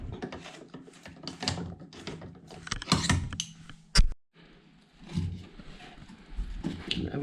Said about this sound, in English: And everything is turning like it should be.